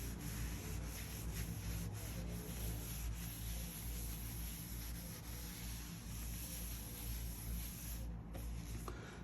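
A cloth wipes excess oil off a wooden charcuterie board with butterfly keys, giving a soft, continuous rubbing and scrubbing sound close by, with no voices.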